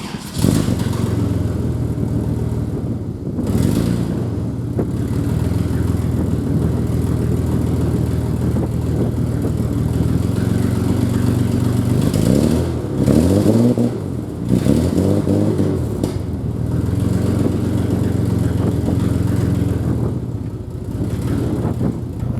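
A Toyota Supra with a newly fitted aftermarket exhaust, coilovers, coils and air intake runs steadily at a loud, close idle, with brief revs rising and falling midway before settling back to a constant rumble.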